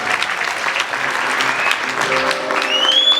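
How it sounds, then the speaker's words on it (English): Audience applause at a 2017 gala dinner fills the room with steady, dense clapping, with some faint whistling toward the end. "Please, let's give her a huge round of applause."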